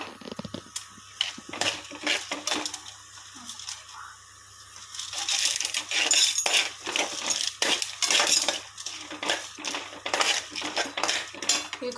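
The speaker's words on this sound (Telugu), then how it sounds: "ధనియాలు వేసానండి, జీలకర్ర వేద్దాం." Coriander seeds and cumin pour into a metal pan already holding chana dal for a curry-leaf spice powder, making a dry, busy rattle and clatter of seeds with a metal spoon clinking, close and without speech.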